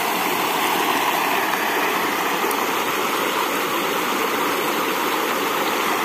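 A small roadside stream flows over a rock slab in the Bahia backcountry, giving a steady, even rushing wash close by that holds constant throughout.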